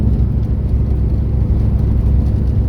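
An LT1 383 V8 in a performance-built Camaro pulling in fifth gear, a loud steady low engine drone with road rumble heard from inside the car, no talking.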